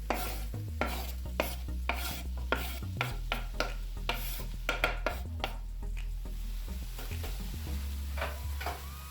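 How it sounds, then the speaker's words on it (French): Stuffed chicken being moved and turned in a frying pan with onions, a run of repeated scraping knocks and clinks over a low sizzle and a humming background. "On va le mettre dans la poêle avec les oignons qu'on a mis."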